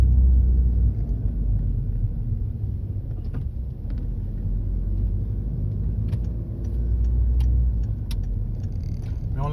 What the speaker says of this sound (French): on a un moteur qui fait un petit peu de bruit, mais ça reste correct